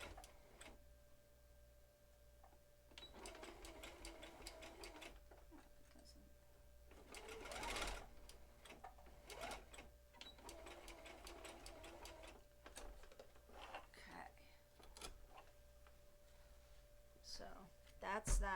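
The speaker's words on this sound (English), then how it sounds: "I go back and stitch it because I want those seams, those intersections to be nice and strong" A home sewing machine stitches back over fabric seams and intersections to strengthen them, running in several steady bursts with short pauses between, fairly close and clear.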